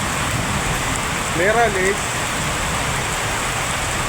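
Heavy rain falls in a steady broadband wash that fills the whole stretch, close and constant, while a voice briefly speaks over it midway.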